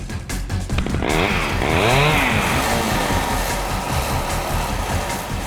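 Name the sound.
played recording of a motorbike engine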